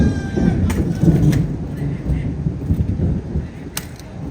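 Heavy rain pours down in a steady, loud hiss with a low rumble beneath it, while someone talks over the downpour.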